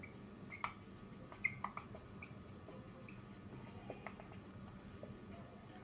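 Pen or marker strokes writing notes during a Bengali-language chemistry lecture on atomic structure, heard as faint scattered scratches and taps over a low steady background hum, with no voices.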